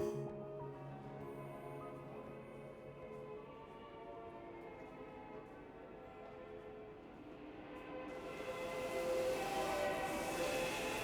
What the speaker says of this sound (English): we're off to Moscow on one of the world's most romantic trains